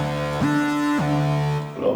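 Synth glide without EQ playing a bright, harmonically rich tone that slides up to a held note, slides back down and sustains before fading, loud and alone.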